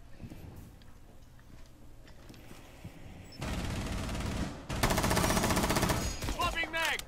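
Rapid automatic gunfire in Rainbow Six Siege, starting as scattered game noises and then two loud sustained bursts of fast shots, with a few trailing metallic clicks at the end.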